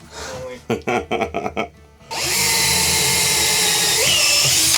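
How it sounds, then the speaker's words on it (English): Power drill boring a hole through the floor of a teardrop camper trailer: a few short bursts and stops, then a loud, continuous whine that pitches down briefly near the end. "now it's time to drill a hole in the trailer"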